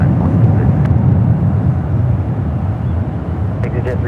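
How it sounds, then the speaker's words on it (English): A Boeing 787-9 Dreamliner taking off from San Francisco airport, a loud, deep continuous engine rumble with wind buffeting, steady across the whole stretch. "The Dreamliner heading to Frankfurt."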